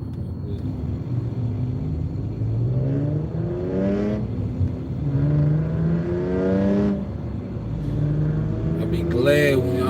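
A small, loud car rumbles past at a red light, engine revving and whirring up close under continuous talking, the drone swelling and fading over the passage.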